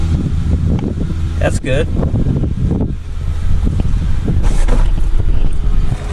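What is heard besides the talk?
El Camino engine cranking and starting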